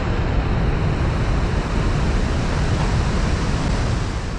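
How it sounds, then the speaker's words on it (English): Iguazu Falls, a waterfall system of more than 200 cascades, gives off a continuous, loud broadband roar of rushing water, steady and unbroken throughout. "Iguazu Falls is the largest waterfall system in the world."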